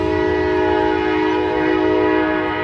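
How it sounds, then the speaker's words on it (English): A freight train on the old Lima line sounds a long, steady multi-tone horn blast at close range, with rumbling rail noise beneath throughout. "This is the old Lima train, but I don't think it goes to Lima anymore."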